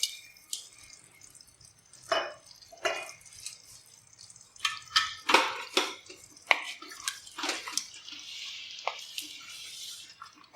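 A glass of water is poured into a pot of Awadhi mutton korma, splashing and sizzling in irregular bursts with clinks and stirring.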